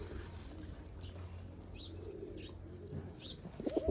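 Ferozpuri pigeons coo faintly in a few brief calls against a low background murmur, with a couple of knocks near the end.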